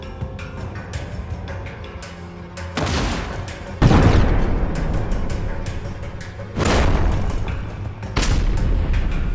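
GBU-39 bombs strike Russian positions in a village, producing several heavy, booming blasts spaced a few seconds apart. Each one is followed by a rumbling wash of debris and noise that lingers between impacts.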